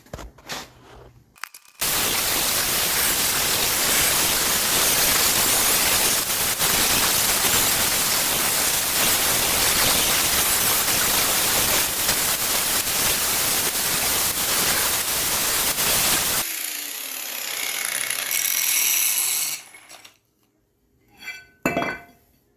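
An angle grinder strips thick rust from the brake rotor of a 2010 Grand Caravan, a loud, harsh hiss that runs without a break for about fifteen seconds and then stops, leaving faint clinks and rattles.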